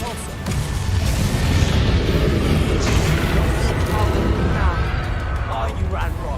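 A Repulsor spell blast in the Hogwarts Legacy video game: a loud, deep booming surge that swells and rumbles for several seconds with crashing debris-like texture, voices sounding over it.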